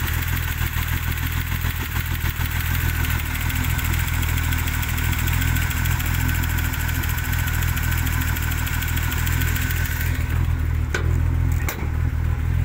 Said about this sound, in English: You can even hear the lifters are a bit loud because it hasn't been started in weeks.